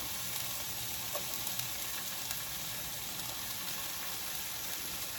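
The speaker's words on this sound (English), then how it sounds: "tomato slices in like this, and we're searing one side, just like this" Tomato slices sear flat side down in a hot pan for an egg and veggie scramble, giving a steady, even hiss of frying that holds at one level throughout with no talking.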